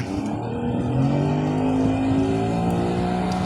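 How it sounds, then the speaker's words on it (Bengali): A speedboat motors past on the water near Char Alexander, Companiganj, Noakhali, its engine a steady, loud, droning hum with slight pitch shifts, close by and continuous throughout. "এটা স্পিড বোট যাচ্ছে"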